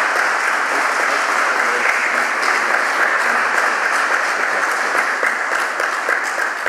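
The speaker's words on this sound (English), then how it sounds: "Let's give him a round of applause." An audience at a high school honors convocation applauds steadily after a scholarship presentation, a dense, continuous wash of clapping at even strength throughout with no voices standing out.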